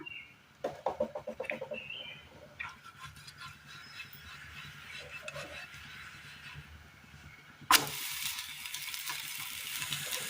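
Oil sizzles steadily in a pan as a wheat flour snack fries, a soft continuous crackle with a few sharper pops and a louder burst of sizzling near the end.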